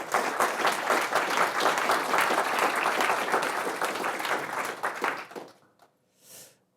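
An audience at an Accessibility London event claps in appreciation: loud, steady applause from a full room that holds for several seconds, then tapers off into quiet with a brief faint rustle at the end.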